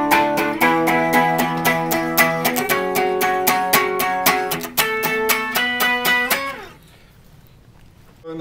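Clean electric guitar with no effects picks a rapid walk-up of bright plucked notes, loud and rhythmic, then cuts off into near silence.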